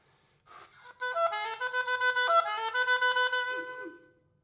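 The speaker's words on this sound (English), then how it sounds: "And using a ta articulation will sound like this." Solo oboe sounds a brisk series of repeated notes using full, resonant 'ta' tonguing, the tones fuller and more connected, heard up close in a quiet room for roughly three seconds.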